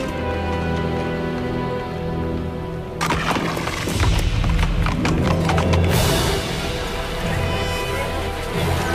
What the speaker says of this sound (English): Riderless horse approaching!